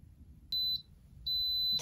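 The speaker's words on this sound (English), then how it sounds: "Timer has gone off. I'm going to shut it off." An Instant Pot timer signals the end of cooking with two sustained, high-pitched electronic beeps. The first is short and the second longer, both clear over a quiet kitchen background.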